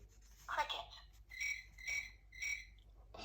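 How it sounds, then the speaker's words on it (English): Cricket chirping sound effect, three evenly spaced shrill chirps after a brief opening trill, each short and clear against a quiet background. "hops and chirps"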